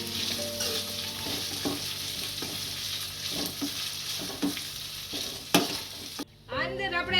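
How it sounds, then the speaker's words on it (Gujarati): Capsicum in a soya chilli mixture is stirred in a hot pan, with repeated scraping spoon strokes over a steady frying sizzle, then a brief quieter moment at the end. "અને શેરવી લઈશું બધું મિક્સ કરી."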